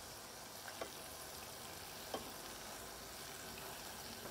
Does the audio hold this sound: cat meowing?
no